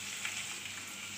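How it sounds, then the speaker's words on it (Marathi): Potatoes frying in hot oil for sabudana khichdi give a steady, close, continuous sizzle with fine crackling and no talk. "आपण बटाटे तळून घेऊ, हे साबुदाणा खिचडीसाठी"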